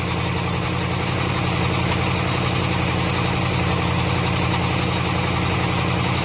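A 1984 Buick LeSabre engine, freshly tuned up with new spark plugs, idles steadily at close range, a continuous low rumble with an even mechanical hum and no voices over it.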